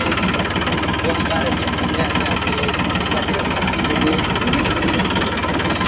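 A tractor engine runs steadily at close range on a Gujarati farm trip to spread fertilizer on mustard and wheat fields, giving a continuous rough, pulsing diesel throb that fills the whole stretch with no pauses.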